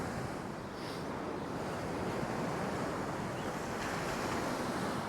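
Sea surf rolling onto a shoreline lined with houses and Lego-brick-like sea defences, a steady broadband wash of breaking waves with wind buffeting the microphone, continuous and fairly close with no voices.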